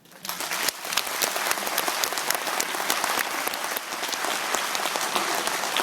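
An audience at a lecture breaks into sustained applause for the lecturer, a dense, steady patter of many clapping hands that starts abruptly and keeps going without a break.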